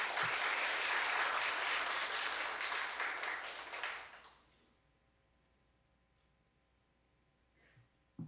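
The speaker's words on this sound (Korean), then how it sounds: "큰 박수 부탁드립니다." A university lecture hall audience applauds to welcome a guest lecturer, a company executive, at Korea University: loud, dense clapping that fades out after about four seconds into near silence.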